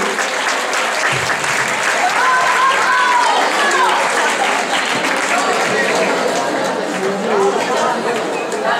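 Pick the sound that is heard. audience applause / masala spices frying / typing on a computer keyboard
audience applause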